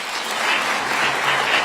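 A crowd at a Jeju 4.3 memorial ceremony claps in sustained, dense applause, loud and steady throughout with no voices standing out.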